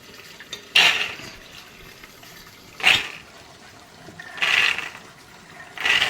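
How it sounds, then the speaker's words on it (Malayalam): Green peas dropped into a pressure cooker in a home kitchen, four separate bursts of rattling and pattering spaced a second or two apart over quiet background. "അപ്പോൾ നമ്മൾ കുക്കറിലേക്ക് ഗ്രീൻ പീസ് ഇട്ടു"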